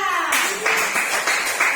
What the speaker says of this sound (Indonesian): Tepuk tangan untuk Bella.